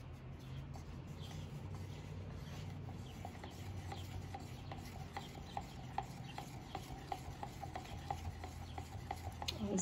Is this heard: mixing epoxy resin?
yes